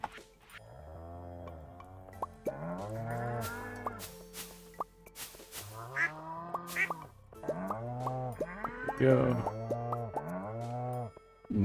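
Cows in the Stardew Valley video game moo repeatedly, a string of loud, close, drawn-out calls with brief gaps between them, mixed with scattered clicks and game effects; a voice briefly speaks.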